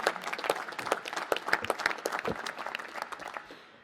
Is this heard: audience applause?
yes